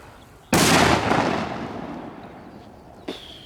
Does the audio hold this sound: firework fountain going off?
yes